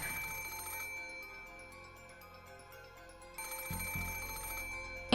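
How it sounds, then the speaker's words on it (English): A telephone rings in the Umineko visual novel, bright electronic ring bursts repeating over a soft music bed, with a louder ring returning near the end. "the ring of the phone, which once sounded like a scream for help, now started to sound like a ghastly lure from some unknown person."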